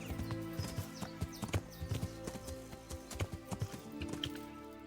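Hooves of a galloping horse in the medieval game Kingdom Come: Deliverance, a steady rhythmic clip-clop at moderate loudness over soft ambient game sound, with no talking.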